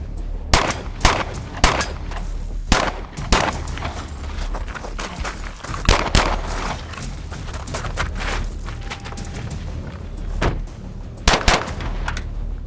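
Pistol shots fired during a shooting drill, loud sharp cracks in quick pairs and short strings with brief gaps between them, sounding close over a faint outdoor background.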